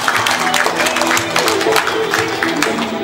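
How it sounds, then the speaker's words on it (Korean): A crowd claps steadily and loudly throughout at a year-end alumni gathering, dense overlapping hand claps filling a room. "큰 박수 부탁드리겠습니다."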